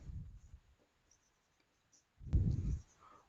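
A line being written on a board comes through as two short, soft scratching strokes, one at the start and a stronger one later, separated by near silence in a quiet room.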